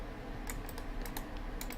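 Computer keyboard keys clack in a quick, irregular run of close, crisp presses, about eight taps in under two seconds over a faint background hiss.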